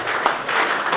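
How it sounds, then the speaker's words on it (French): A short burst of audience applause, many hands clapping together in a dense, even patter. "On applaudit pour papa."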